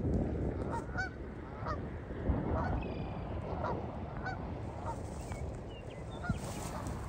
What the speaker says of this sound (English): And those are giant sized cranes.